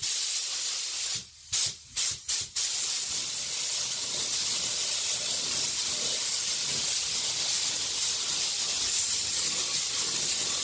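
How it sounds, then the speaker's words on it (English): A spray gun lays clear coat over motorcycle paint on a Suzuki Intruder, giving a loud, steady, close hiss that runs almost the whole time after a few short bursts at the start. "when I spray my clear"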